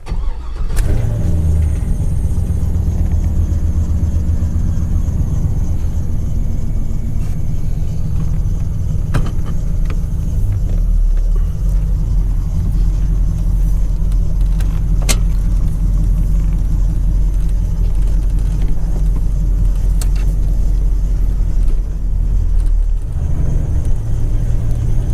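A 1989 Chevy Caprice with a swapped LS V8 idles steadily, a deep, loud low rumble running continuously with no talk over it.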